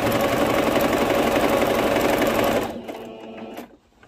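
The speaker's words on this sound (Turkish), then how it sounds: "Çünkü çektirirken dikişimizin kaymaması için 2 milimden dikiyorum." A sewing machine stitching a skirt seam on a pleated skirt runs loud and steady with a dense mechanical whir, then slows and stops near the end, leaving a few quieter clicks.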